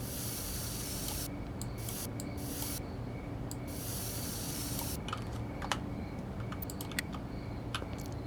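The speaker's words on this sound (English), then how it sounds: "We're just gonna spray paint our name." Spray paint hissing from a can while tagging a wall in the video game Schedule 1, several bursts of broad hiss starting and stopping, with scattered clicks alongside.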